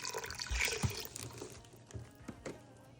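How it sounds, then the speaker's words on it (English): Water poured into a pot over black beans for Miami-style black beans and rice, a soft splashing and gurgling stream that swells then thins into scattered drips and sloshes, close and fairly quiet. "I'm gonna add some water."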